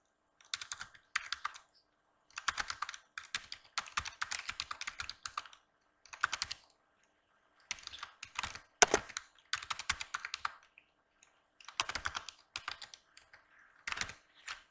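Typing on a computer keyboard comes in irregular bursts of crisp, close keystrokes separated by short pauses, with no voices.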